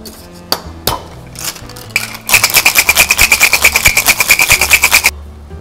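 Ice shaken hard in a cocktail shaker for a gin drink with fresh pineapple juice, a few clunks as ice drops in, then a fast even run of loud rattling strokes for about three seconds before stopping.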